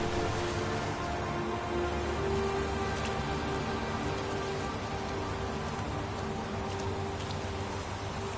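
Steady rain falls in the video game Heavy Rain, a continuous hiss of drops on surfaces with a low constant hum beneath, even and unbroken throughout with no talking.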